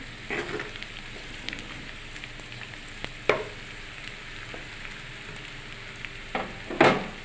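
Thinly sliced onions frying in a pan, a steady soft sizzle with occasional sharper crackles and stirring scrapes, close and moderately quiet, no talk.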